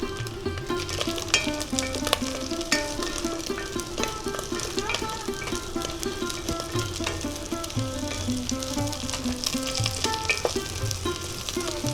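Raisins frying with grated coconut in a pan for bhoger khichuri, a busy, crackling sizzle up close with repeated scraping and tapping of a spatula throughout, no talking.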